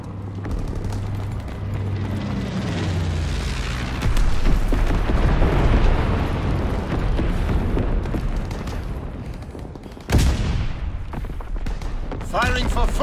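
Artillery barrage from the ORSO Liberator strike in Call of Duty WWII: dense, continuous rumbling blasts that swell through the middle, with one sharp, loud explosion near the end and faint voices underneath.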